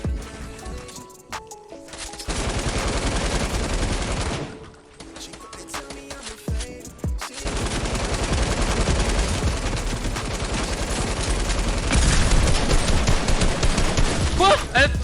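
Rapid automatic gunfire from a weapon in a console shooter game, loud bursts of fast repeated shots broken by brief pauses, with game sounds mixed in.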